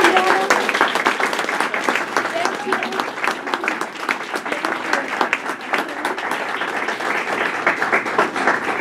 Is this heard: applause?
yes